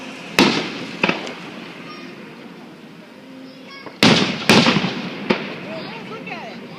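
Fireworks burst at a July 4th show in California, with several sharp booms spread out and then a quicker cluster of cracks. Each bang is followed by a crackling decay, and people chat nearby between the bursts.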